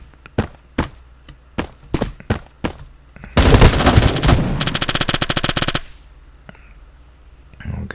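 Automatic gunfire in the shooter game Bullet Force: a string of separate loud bursts, then a long sustained roar of rapid rounds, then a dense rattling stretch before it cuts off, with a few scattered shots near the end.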